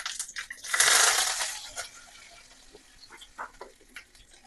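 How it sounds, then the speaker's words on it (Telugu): Dried red chillies and curry leaves hit hot oil in a pan while tempering for kakarakaya pachadi. A short, loud sizzle bursts up, then fades into faint scattered crackles and clinks. "బాండీలో ఆయిల్ వేసి ఇప్పుడు పోపులు వేసుకుందాం."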